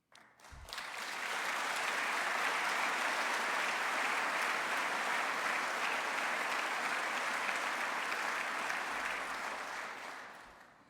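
An audience at the mayor's 56th annual State of Metro address breaks into sustained applause, building quickly and holding steady for around ten seconds before tapering off.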